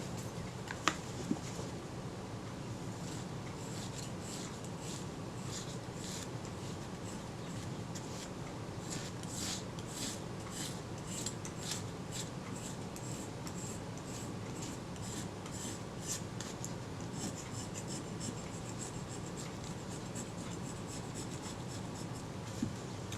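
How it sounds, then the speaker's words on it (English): A scalpel blade scrapes a dry, dusty deposit off a Kodak Retina IIIS camera part, a steady soft rasping with faint repeated strokes, close and quiet, with no talking. "I'm just gently scraping this with the scalpel blade to remove that deposit, and the deposit is very dry and dusty."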